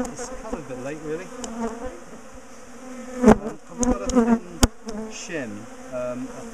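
Honey bees buzz around an open top bar hive during a colony split, a close, dense, wavering drone with sharp bursts as bees fly past. There is no talk over the buzzing.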